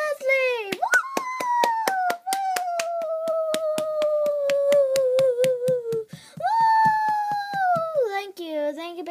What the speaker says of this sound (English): You can stop clapping now.